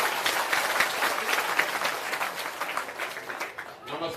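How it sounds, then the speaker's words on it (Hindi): Crowd clapping at an outdoor political camp rally in a Bihar village panchayat, a fairly distant, uneven patter of many hands that swells and eases over a few seconds, with faint voices mixed in. "जोरदार ताली बजे"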